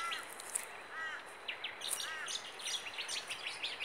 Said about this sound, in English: Oh, and we got magpie eating his morning lunch.